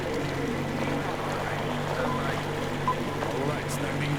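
A boat engine in Metro Exodus drones steadily at a low pitch, a constant close mechanical hum running the whole time with faint splashing noise.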